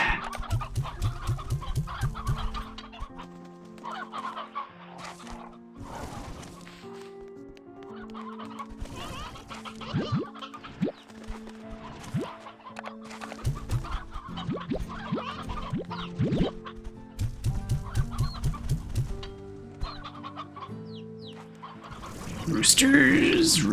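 Roosters packed in a crowded pen, with repeated clucking and squawks in uneven bursts, some loud and close and others quieter, plus a louder call near the end.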